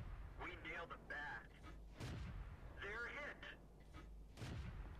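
A T-71 light tank's gun fires HEAT rounds in World of Tanks, two loud booming shots about two and a half seconds apart, with someone commentating throughout.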